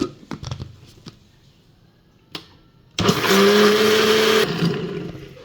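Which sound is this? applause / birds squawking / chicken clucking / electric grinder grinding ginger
electric grinder grinding ginger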